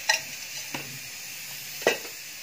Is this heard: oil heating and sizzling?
yes